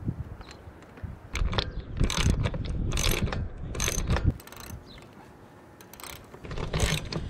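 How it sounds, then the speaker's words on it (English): A ratchet tightens a 1/2 inch bolt while a side ladder is fitted to a DIY Sprinter camper van, giving bursts of rapid clicking strokes that repeat over several seconds, close and fairly loud, with quieter pauses between them. "now we got the 1/2 inch getting tightened down."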